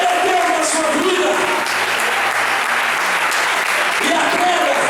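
A church congregation claps steadily together for several seconds, the applause dense and continuous with a murmur of voices underneath.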